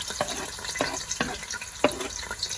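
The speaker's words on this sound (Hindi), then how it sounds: "हमने देखिए आधा कप तेल के लिया है जो गर्म हो गया। अब इसमें डालेंगे हम प्याज" Onions hit half a cup of hot oil for chicken pulao, giving a steady close sizzle with soft stirring scrapes and clinks repeating every half second or so, no talk.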